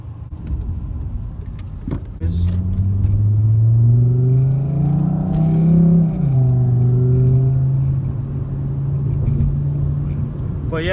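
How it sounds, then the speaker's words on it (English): A car engine revs while driving, a loud, steady rumble that starts after a quiet moment and rises in pitch midway before settling into a sustained drone, with no talk. "the car just feels like it has more of a kick. It really does, and I love the sound"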